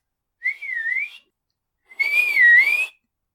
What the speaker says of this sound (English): Queckett whistles twice,